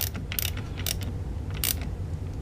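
Short metallic ratcheting clicks sound in a few quick bursts as bolts on motorcycle brake rotors are snugged up by hand in a workshop, close and fairly quiet over a low background hum.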